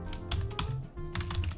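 Typing code on a computer keyboard while writing jQuery scripts for custom tabs, a steady run of close, quick key clicks in irregular bursts with no voice over them.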